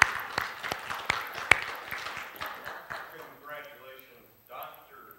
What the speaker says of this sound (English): So she deserves a round of applause for all her work.